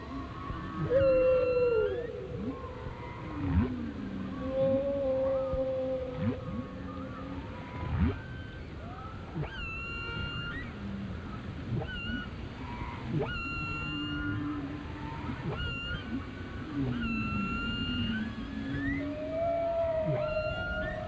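Male whales sing in open water, long moaning calls and rising and falling whoops overlapping in a continuous distant chorus with occasional sharper upsweeps, no voices present.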